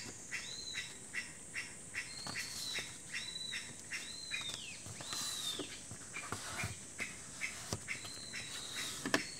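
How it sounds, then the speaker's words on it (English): A bird gives repeated short squawking calls outdoors, sharp rising-falling cries at irregular intervals over a faint insect buzz and light ticking sounds, moderately near and fairly quiet. "There's a bird."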